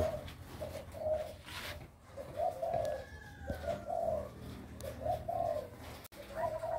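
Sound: zebra doves (perkutut) cooing in aviary at midday

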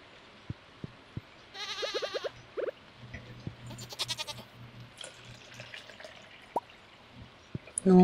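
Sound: goat bleating while being milked in video game Stardew Valley

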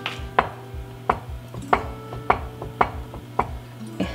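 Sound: fork sealing puff pastry lid of beef mince pie

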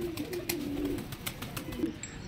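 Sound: pigeons

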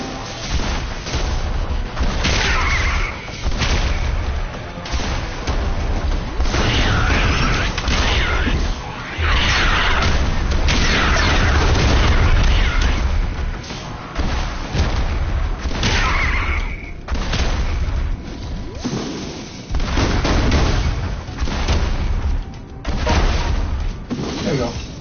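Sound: rockets being fired and exploding in the video game Rogue Stormers

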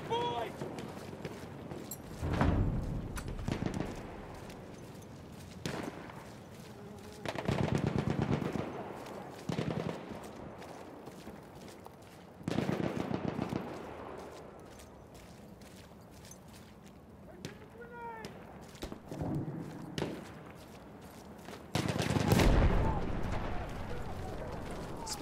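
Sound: machine gun fire in the video game Battlefield 1

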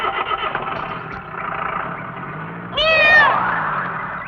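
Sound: cat meowing

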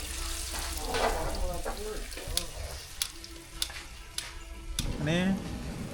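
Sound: tempering spices in hot oil for sambar

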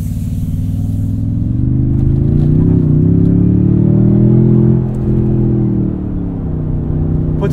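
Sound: 2024 Toyota Tundra TRD Pro i-FORCE MAX driving at speed

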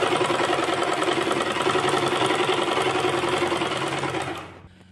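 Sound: sewing machine stitching pleats on a kurti

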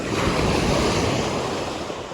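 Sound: sea waves

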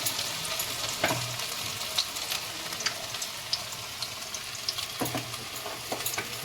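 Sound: food frying in a pan

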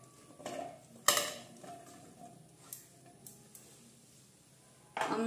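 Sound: cucumber pieces being put into a mixer jar

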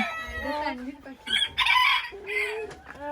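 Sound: rose comb chicken crowing

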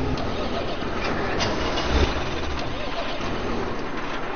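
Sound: tractor engine in video game Farming Simulator 15

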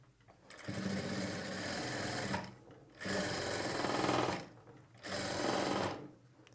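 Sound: sewing machine stitching lining beside thread piping

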